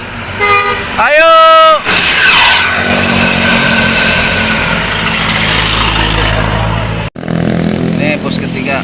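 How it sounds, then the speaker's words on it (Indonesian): An Indonesian tour bus from the Arjuna Samba fleet with a custom telolet horn passes close by, its musical horn tooting a rising melody over a loud engine rumble while a crowd cheers and shouts. "Ini bus ketiga."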